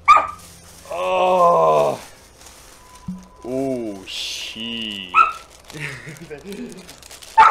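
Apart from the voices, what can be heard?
dog barking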